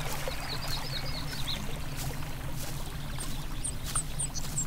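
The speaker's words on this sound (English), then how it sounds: "next to the babbling brook" A babbling brook in the Garden Simulator video game gives a soft, continuous trickle and gurgle of flowing water with a faint low hum, and no one talks.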